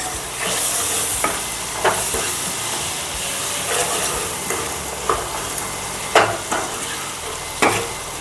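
Potatoes fry in a pan with a steady, close sizzle, punctuated by sharp scrapes and clacks as they are stirred every second or so.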